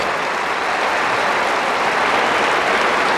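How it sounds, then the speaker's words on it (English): An audience applauds the Scholar Athlete Award winners at a 1995 Class C final game between Ishpeming and Lakeview: dense, steady clapping from a large crowd filling the whole stretch without pause. "Let's have a big round of applause for the Scholar Athlete Award class of"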